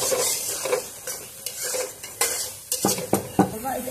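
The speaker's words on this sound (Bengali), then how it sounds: "এখন আমি এটাকে ভালো করে কষাইতে হবে।" A utensil stirs and scrapes ground spices, turmeric paste and salt as they fry in a pan. Irregular clinks and scrapes sound up close over a soft sizzle, growing busier toward the end.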